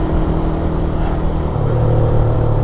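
Rider 150 carbureted motorcycle engine while riding, a steady droning hum with a slight pitch shift partway through, close and continuous with wind rush, no talking.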